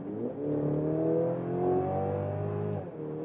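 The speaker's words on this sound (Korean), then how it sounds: "먼저 스포츠 모드로 가속을" A Mercedes-AMG GLC 300 Coupe with a 2-litre four-cylinder engine accelerates hard in sport mode on the Autobahn, its engine note climbing steadily in pitch for a few seconds, heard fairly faint from inside the car.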